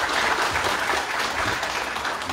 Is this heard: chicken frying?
no